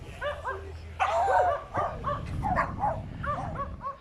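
Dogs bark repeatedly at Moreton Show, an agricultural show, with several sharp yaps and barks in an irregular rhythm over a steady murmur of crowd noise in the open air.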